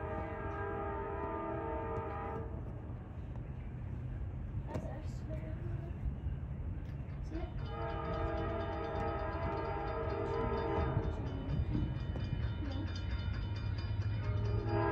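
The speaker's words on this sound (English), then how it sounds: "There's a different kind of locomotive behind the train." An Amtrak passenger train with its locomotive rolls through downtown Plant City, a steady loud rumble with sustained horn tones blaring over it, nearby and continuous throughout.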